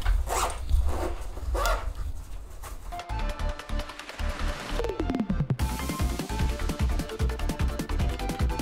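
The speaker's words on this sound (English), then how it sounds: "I'll just zip this back up" Backpack zipper being pulled open in several short scratchy zips, fairly faint and close, followed by a longer ratcheting run of zipper teeth, with no voices.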